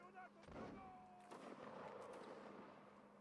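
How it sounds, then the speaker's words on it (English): Long-range musket volleys in the Napoleonic battle game Mount & Blade: Napoleonic Wars, a few distant cracking shots and rumbling booms that overlap and fade, fairly faint against the battle's background din. "They're firing long distance"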